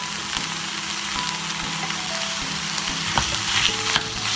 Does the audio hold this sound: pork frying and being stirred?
yes